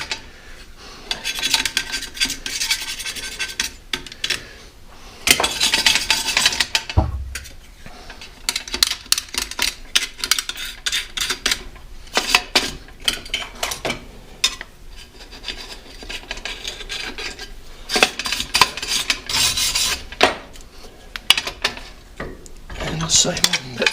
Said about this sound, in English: Just a little razor blade scrape, just get all the grease off, the old grease.